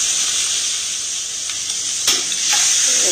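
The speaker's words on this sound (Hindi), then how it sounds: "हमने फ्राई पैन में डाल लिया।" Egg omelette mixture sizzles in a frying pan with a loud, steady hiss up close, and a couple of brief utensil clatters break into it.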